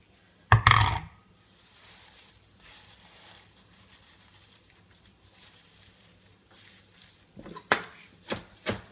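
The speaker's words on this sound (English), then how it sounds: "I shall put all of this lovely basil and also hand chop it." Fresh basil hand chopped with a knife on a board, heard as a short cluster of sharp thuds near the start and a few more blows at the end, with quiet kitchen room tone between.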